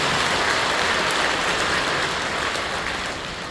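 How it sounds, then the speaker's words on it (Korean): A church congregation claps together in welcome during a worship service, a loud, sustained burst of many hands that gradually fades toward the end. "다시 한번 감사하고 환영하며 박수 한번 주십시오"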